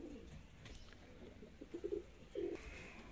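Dab pigeons, domestic fancy pigeons, give a few short low coos near the end, two clear pulses standing out over faint background murmur with no talk.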